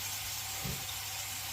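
Diced beef browning in hot oil gives a steady broadband sizzle and hiss, close and continuous, with a soft brief thump partway through.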